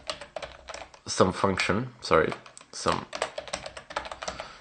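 Quick runs of computer keyboard typing sound close up, sometimes alone and sometimes under a man's spoken explanation.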